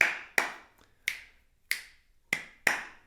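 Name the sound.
rhythmic hand clapping for Misra Chapu tala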